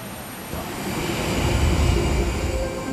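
A German government aircraft makes a steady, loud engine drone, a constant roar that swells slightly midway with no talk over it.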